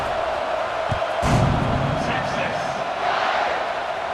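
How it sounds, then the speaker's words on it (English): A football stadium crowd buzzes with steady, broad murmur and a brief swell of cheering after a score, heard under continuous play-by-play commentary. "this crowd is buzzing after that last score"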